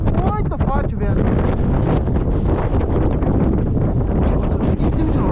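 Strong wind blows through the Ronda canyon at Bom Jardim da Serra, Santa Catarina, buffeting the microphone in a loud, continuous rumbling roar with gusty surges, and a few faint vocal sounds show near the start.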